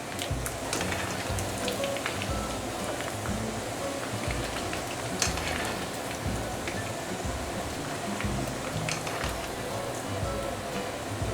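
Pork pieces double fried in hot oil for sweet and sour pork: a dense, continuous crackling sizzle with rain-like popping, steady and close throughout.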